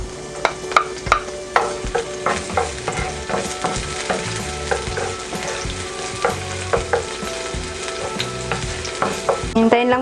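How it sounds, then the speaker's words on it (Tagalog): Garlic sautéing in hot cooking oil in a pan, a steady close sizzle and crackle with frequent sharp pops and stirring clatter throughout, no voices. "pagka mainit na po yung ating mantika ay pwede na po nating igisa itong ating bawang."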